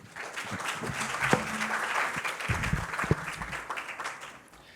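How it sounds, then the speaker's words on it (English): A conference audience claps in sustained, moderately faint applause that swells and then tapers off, with a few distinct louder claps and faint background sounds. "Please welcome with a round of applause"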